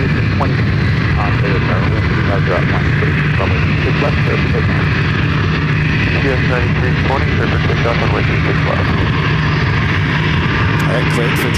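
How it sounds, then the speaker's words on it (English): An airliner takes off from runway 26 left at Ontario, California airport, a loud steady engine roar filling the whole stretch beneath intermittent radio voices. "All right, cleared for takeoff, 26 left."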